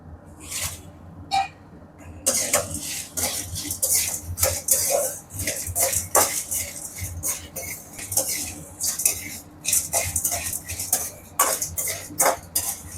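Dry red chillies being roasted and stirred in a pan for murungai keerai idli podi, with close scraping and clinking of a spoon against metal in irregular bursts, and no talking.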